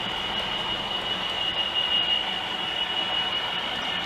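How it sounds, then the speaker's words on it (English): Model railway locomotive 66702 hauling freight cargo wagons with a VGA among them on a layout, a steady, loud rolling rumble with a thin high whine running throughout, no talk. "66702 coming through with a freight cargo wagons with a silver bullet on the back"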